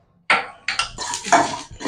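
Whole coriander seeds, dried red chillies, fennel and cumin dry-roasting in a wok, stirred in a few quick scraping, rattling strokes with short pauses between them.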